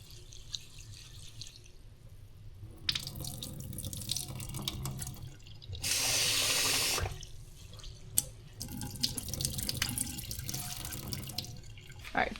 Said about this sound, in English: Normally I wash my rice a little bit better, but we're just gonna do a couple quick little rinses